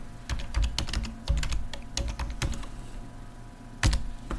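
Steady computer keyboard typing with irregular clusters of sharp key clicks, close and clear, with a few heavier strokes standing out; no voices over it.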